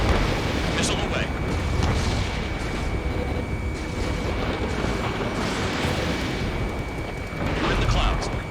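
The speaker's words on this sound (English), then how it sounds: "Missile away." A missile fires and detonates in the Ace Combat 7 flight game, a roaring rush and booming blasts over steady jet engine drone, with radio voices talking over it.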